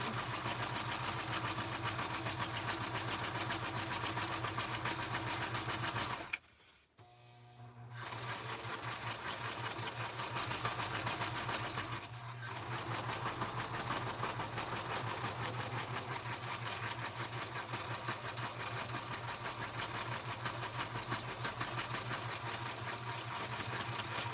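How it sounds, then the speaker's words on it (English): A sewing machine runs steadily in a continuous rapid whir, pausing briefly once before resuming, close and fairly loud. "I'm going to be on the sew machine for just a second."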